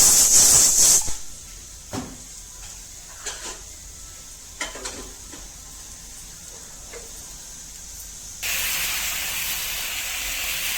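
Dosa batter of soaked, ground broken black urad dal hits a hot pan with a bright hissing sizzle, followed by quieter scraping and tapping, then a strong steady sizzle returns near the end.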